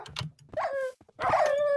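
Minecraft UHC wolves attacking in a video game, a few short yips and barks with whiny tones in quick succession, close and distinct with no talk.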